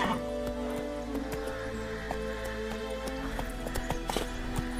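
Roach the horse runs in The Witcher 3, with rhythmic clip-clop hoofbeats over steady ambient game music, moderately close and continuous throughout.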